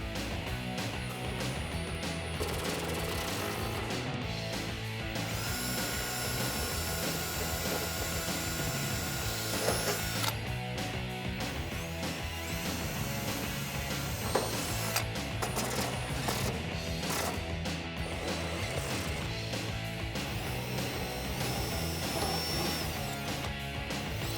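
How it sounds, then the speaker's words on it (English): A socket driver drives a standard self-tapping screw into an aluminum inner fender flare on a Jeep Wrangler JK. It makes a continuous quiet mechanical whirring with ratchety clicks and a few brief sharp knocks. "I'm just using a standard self-tapping screw and a 5/16 inch socket to secure that down"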